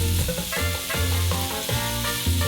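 Minced meat and vegetables fry on a stove with a loud, dense sizzle, broken up by repeated clanking scrapes of a spatula against the pan, close up and with no voices.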